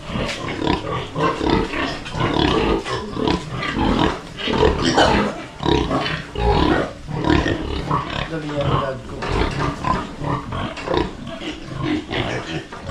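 Pigs grunt and squeal loudly and continuously at a Philippine farm, overlapping calls from several close animals, with people talking nearby.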